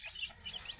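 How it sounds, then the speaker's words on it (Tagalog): A mother hen in a small backyard chicken coop clucks softly in a quick run of short, slightly nasal notes, faint and close, with no talk over it. "Ang aking inahin"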